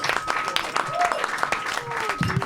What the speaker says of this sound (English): Big round of applause to Lee Hudson and Jonathan Kogan.